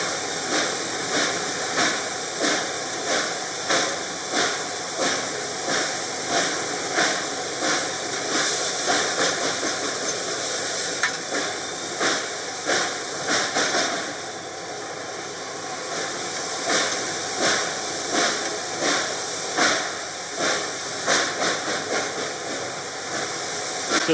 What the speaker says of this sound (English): as he opens the throttle, it seems like every time he's putting steam to the cylinders, the wheels are slipping.